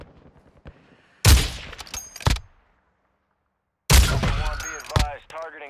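Call of Duty DMZ gunfire using overpressured ammo in two sharp loud bursts of rapid automatic shots separated by silence, with brief game voices following the second burst.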